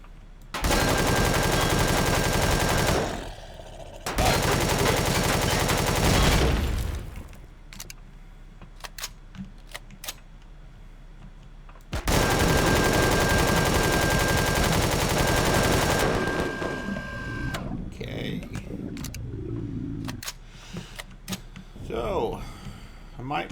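Gunfire in the space survival game Empyrion Galactic Survival: long sustained bursts of rapid automatic fire, loud and close, broken by gaps with scattered single shots and clicks toward the end.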